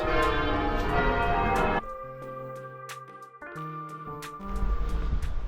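Church bells ring out in a series of resonant strikes with long ringing tones, heard over a background murmur that drops away and then returns.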